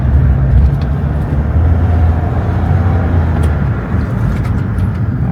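Car driving around a corner after a tune-up for misfires, a loud steady engine and road roar throughout with a faint passing vehicle, no talking.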